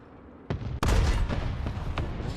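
Tank gun blasts in a Panzer IV tank video game: a sharp shot followed by a louder, heavy boom with rumbling tail and further crackling impacts, loud and close.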